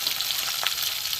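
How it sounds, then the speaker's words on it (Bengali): Katla fish fillets frying in hot oil in a pan, a steady soft sizzle with a few faint scrapes as the pieces are turned, heard close with no talking. "উল্টে পাল্টে মাছটা ভেজে নেওয়া হচ্ছে"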